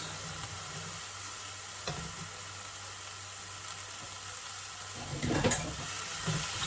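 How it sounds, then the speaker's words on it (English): Strained vegetables tipped into a hot pan: a low, steady frying hiss that bursts into a louder close sizzle and clatter near the end, with no talking. "I'm going to add in the vegetables that we just strained"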